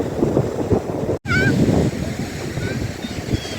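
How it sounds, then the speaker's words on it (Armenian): Rough North Sea waves surge onto the shore in a steady roar, with wind noise and a few brief bird calls on top and a voice talking faintly nearby. "Երբ որ ծովը ալեկոծվում է ու ջուրը բարձրանում է, մինչև տեսեք ուր է հասնում։"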